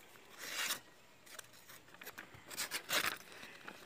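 A small stainless steel 308 knife rasps and tears through material in several short scraping bursts, close and fairly quiet, with pauses between strokes.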